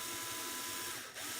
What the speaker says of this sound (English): I'll take my string winder.